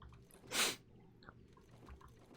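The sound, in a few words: sneeze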